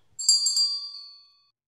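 A single bright bell ding rings out clearly and then fades away, with no other sounds around it.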